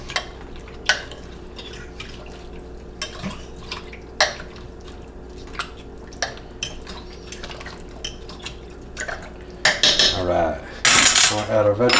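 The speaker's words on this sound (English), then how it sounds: "Grab a fork and just mix that in a little bit." A fork clinks repeatedly against a crockpot bowl while brown gravy mix is stirred into venison sirloin tip stew. The light taps are spaced out, then a louder burst of scraping and clattering comes near the end. No one speaks.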